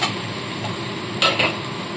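Ginger garlic paste stirred with spices in a hot pan for a dal and egg dish: a steady close sizzle with a couple of short scraping strokes near the middle, no talking.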